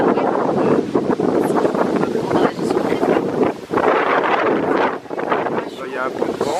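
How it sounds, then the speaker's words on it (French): Outdoor wind buffeting a microphone during a street interview: loud, continuous low rumble and gusts throughout, with people talking over it. "Il y a un peu de vent."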